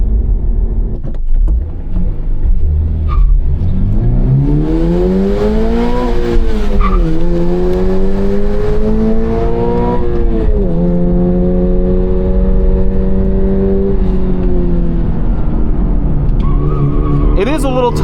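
A 2026 Toyota GR86 driven hard on the Sonoma race track, its engine loud and close as it revs up through the gears with rising and falling pitch, tires squealing, and talk faintly beneath.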